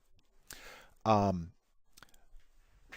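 A computer mouse clicks a few times, short sharp taps spread across a few seconds, with a brief tonal sound between them and otherwise quiet surroundings.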